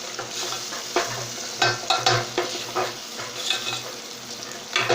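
Eggs cook in a spice masala in a pan, giving a constant sizzling hiss with repeated stirring scrapes and clatters at irregular intervals, close and fairly loud, no voices present.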